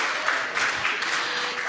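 Audience applause on a live entrepreneurship show, a steady continuous wash of clapping that holds at an even level for the whole stretch with no talk over it.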